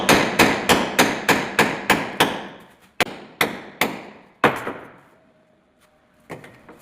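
A hammer strikes hard during bathroom plumbing fitting, a steady series of about a dozen loud, sharp blows with ringing decay, a short pause, then a last faint tap.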